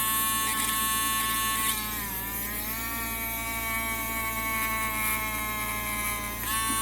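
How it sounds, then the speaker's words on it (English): A Dremel rotary tool bit drills a hole through a Batman grappling hook, making a steady high-pitched whine whose pitch dips slightly as the bit bites into the material, continuous and close. "that's when the Dremel bit is going to start actually going through"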